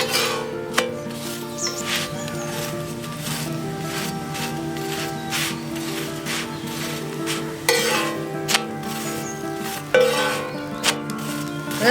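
A chapati cooks on a hot pan in a village kitchen, with a steady low sizzle and scraping sounds as it is turned and pressed, plus a few sharp clinks of utensil against pan.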